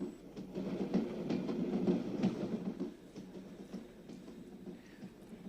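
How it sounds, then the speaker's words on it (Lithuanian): A passing mail train gives a steady low rumble that swells and then eases off, with faint clattering over continuous noise. "Tuoj pravažiuos traukinys pašto."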